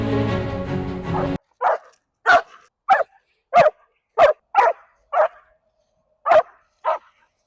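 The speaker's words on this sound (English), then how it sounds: "have an extremely reactive dog like Domino, you just saw him react like crazy," A reactive dog on a leash barks in a sharp burst of about ten short, loud, close barks at an uneven rhythm, following a brief stretch of sustained tonal sound.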